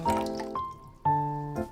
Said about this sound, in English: So to start, I add 1 litre of water to a pan